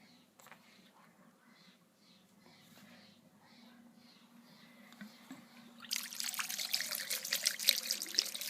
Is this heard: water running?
yes